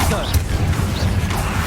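Confringo blasting spells fire amid dense, loud combat against Inferi in Hogwarts Legacy, with booming impacts layered over constant battle noise and in-game voices shouting.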